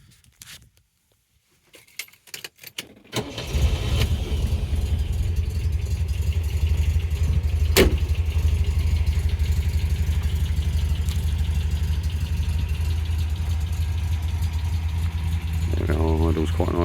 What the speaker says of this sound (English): I'll just start the car up for you as well,